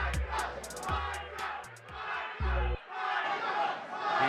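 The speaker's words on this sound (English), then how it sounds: "The Jermicah cheering section is back at it." Spectators at an amateur MMA bout in Wyoming cheer and yell loudly without pause, with individual shouts rising over the crowd noise.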